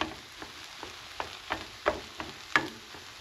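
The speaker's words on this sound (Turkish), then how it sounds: "Böyle karıştırıyorum. Kızarasıya, pişesiye." Food frying in a pan is stirred with a utensil, soft scraping strokes recurring roughly every half second over a faint steady sizzle, close and fairly quiet.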